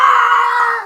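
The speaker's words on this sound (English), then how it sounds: "Cue Wilhelm scream." Wilhelm scream sound effect: a single loud, sharp cry of pain lasting under a second, with a sustained, strained tone that fades at the end.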